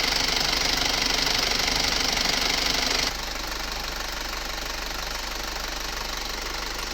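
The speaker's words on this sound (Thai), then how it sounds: "เครื่องยนต์ 2008 เทอร์โบนะครับ เดินเบา ถือว่าทำงานได้เรียบร้อยดีครับ" A 2008 Isuzu Rodeo 4WD turbocharged engine idles steadily with a continuous mechanical hum and rattle, slightly quieter after the first few seconds.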